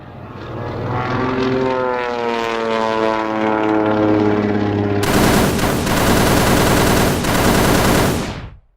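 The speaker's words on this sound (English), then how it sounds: "Nearing Gibraltar, Jonathan and Simone are spotted by a single German plane." German propeller plane passing overhead, its droning engine pitch sliding downward as it flies by, then a loud burst of sustained rapid gunfire with sharp impacts at close range.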